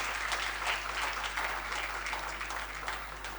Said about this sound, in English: And I think that deserves a big clap.